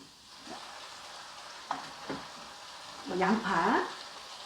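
Shishito peppers and dried shrimp are stir-fried over low heat, giving a soft, steady sizzle broken by a few spatula scrapes and a short voice-like burst near the end.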